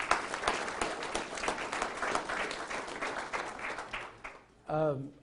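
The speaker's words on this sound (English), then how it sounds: "Give them a round of applause if you don't mind." Audience applause at a civic State of the City event in Abilene, a steady wash of clapping blended with a crowd murmur, ending with a short whistle-like burst.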